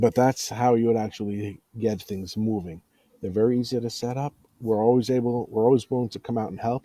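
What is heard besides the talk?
No everyday noise stands out behind the speech.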